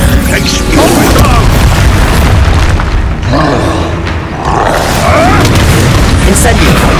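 Expulso explosion spell blasts in Hogwarts Legacy, loud booming bursts and crashing debris over dense continuous game noise with a short dip mid-way.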